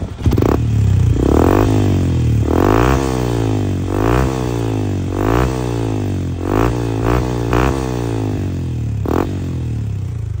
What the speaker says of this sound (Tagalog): Ayun yung tunog na mga boss, low RPM pa lang yan ha.